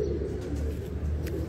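Low, soft cooing of a pigeon kept in a rooftop loft in Lahore, heard close over a steady background rumble with no talk.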